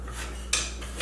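Metal spoon clinks against a pot while cooking onions in oil for vegan curry chickpeas, a couple of light close taps over a steady kitchen hum.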